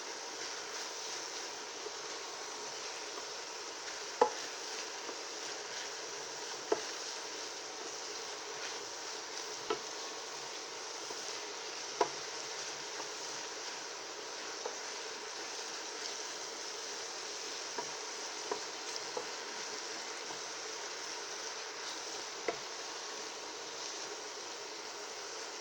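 Onions frying in a pan while greens are prepared, a steady soft sizzle with faint occasional stirring clicks, continuous and fairly quiet throughout.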